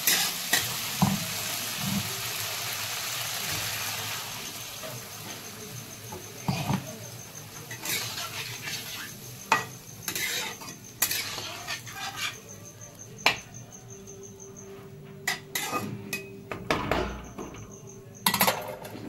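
Kashmiri-style cauliflower gets stirred in a pan, a spoon scraping and clinking against the metal in uneven bursts over a low background sizzle, close and fairly quiet, with no talk.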